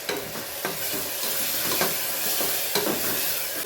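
A freshly ground paste of garlic, coriander, green chilli, cumin and salt fries in hot oil for misal pav, giving an even, close sizzle broken by intermittent stirring clatters against the pan, without speech.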